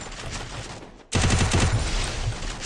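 Rapid automatic gunfire from the Free Fire video game bursts in loudly after a softer opening second, a dense chattering volley of shots that keeps up to the end.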